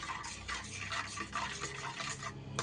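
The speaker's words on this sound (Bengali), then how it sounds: "এবার সব কিছু একটা চামচের সাহায্যে খুব ভালো করে মিশিয়ে নিচ্ছি।" A spoon stirs a mixture of fried brinjal and hilsa with leftover frying oil, giving a steady, close scraping and squelching texture throughout with no talk.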